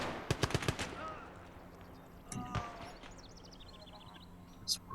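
Gunfire in the Gates of Hell: Ostfront video game, a quick burst of four or five sharp shots up front, then sparse scattered shots and distant cracks through the rest, with no talk over it.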